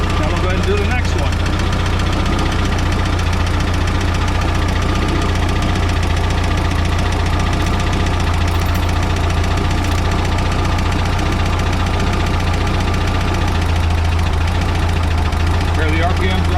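A Volkswagen Type 4 engine with dual carburetors idles close by, a steady low rumble with an uneven knocking pulse as the revs sag and the running begins to stumble, a voice faintly present beneath.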